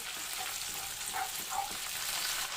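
Chicken lollipops fry in a pan while red chili sauce is mixed in, giving a steady, close sizzle with a few brief scraping stirs across the whole stretch.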